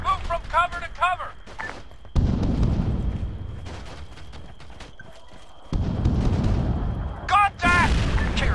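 Bursts of rifle fire in the ARMA 3 battlefield, loud broadband blasts that rumble and sustain for a couple of seconds each, heard in two main volleys with radio voices calling out between them.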